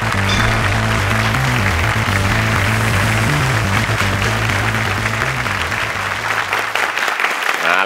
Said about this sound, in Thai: ปรบมือให้กำลังใจหน่อยครับ